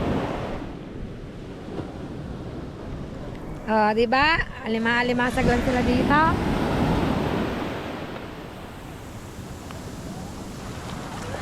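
Ocean waves wash at the shore with steady broadband surf and wind noise, while people talk close by over it in the middle of the stretch.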